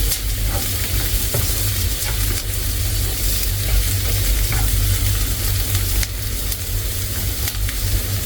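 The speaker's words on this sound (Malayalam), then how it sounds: "ഒന്ന് നല്ല രീതിക്ക് വഴക്കി കൊടുക്കാം" Stuffed squid fries in a pan with a loud, continuous sizzle and hiss while it is stirred, close and steady with no voices.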